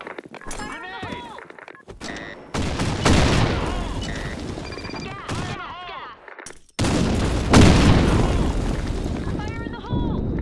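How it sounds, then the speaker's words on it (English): Gunfire bursts and heavy grenade booms on the Sand Storm map of the video game Blackshot, loud and close with rapid shots and sudden blasts. Voices call out among the shots. "Grenade!"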